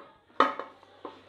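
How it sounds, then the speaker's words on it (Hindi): Marinated mutton goes into a metal pressure cooker pot, giving one sharp clank of utensil on metal followed by a couple of softer knocks, close and alone. "इस कुकर के अंदर हम शामिल करेंगे हमारा जो हमने गोश्त मैरिनेट कर लिया था"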